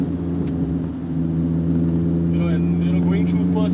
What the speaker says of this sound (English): Mivec crossover noise, you get the straight pipe